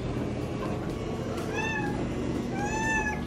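A house cat meows for a dinner treat, two or three clear, rising-falling meows close by, over a steady low background hum.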